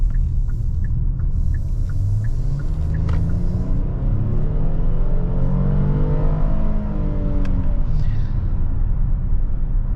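A 3.8-litre V6 in a 2023 Hyundai Palisade SUV accelerates as a steady, fairly loud engine rumble rises and falls in pitch over about ten seconds, heard from inside the cabin with no talking.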